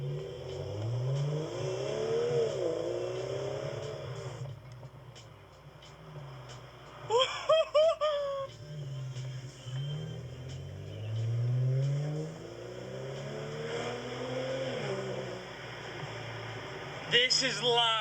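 A BMW E92 with an N55 engine and VRSF downpipe exhaust revs in cabin, the engine note rising and falling in several sweeps with a few sharp bursts, while someone talks over it.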